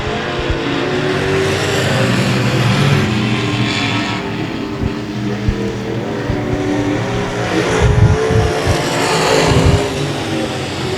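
Race cars circling a dirt-oval style track at 281 Speedway, engines roaring continuously with swells as cars pass nearby, loud and sustained throughout.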